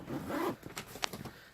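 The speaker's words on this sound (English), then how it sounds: "As soon as I remember where the zipper is." A zipper on the case of a compact, high-tech sleep machine is pulled open in a few short scratchy bursts, close and moderately loud, with soft handling noise around it.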